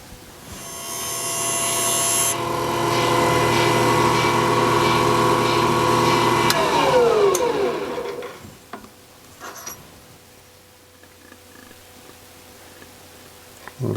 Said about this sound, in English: I just wanted to show you how we've started grinding